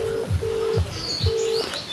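Outgoing phone call ringback, three evenly spaced tone bursts with short gaps, with faint chirps in the background.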